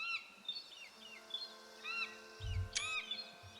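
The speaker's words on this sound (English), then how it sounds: "No, it's not a cockatoo. It's actually a seagull." Several high, bright bird cries from seagulls in the flying game Feather ring out in short repeated bursts over a quiet outdoor ambience, with one sharp squawk and a brief low thump near the end.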